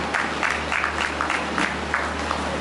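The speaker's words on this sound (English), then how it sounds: "A round of applause for him." Scattered clapping from a conference audience greets a speaker at a plenary session of an investment summit in Enugu, Nigeria. The claps are brief, uneven and moderately close.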